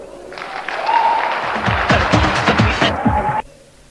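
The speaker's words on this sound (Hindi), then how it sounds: "जितने लोग नहीं सोए हैं ताली बजा दो एक बार।" An audience at a business seminar claps together in a loud, continuous burst lasting a few seconds before stopping abruptly, while a voice speaks over the clapping.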